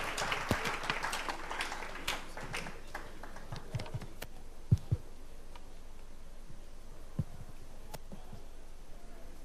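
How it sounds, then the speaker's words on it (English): An audience at a celebration event in South Africa claps for presenters walking up. The crisp applause is fairly loud at first, then thins out into scattered, sparse claps and taps over a quiet room. "A round of applause to them as they make their way here"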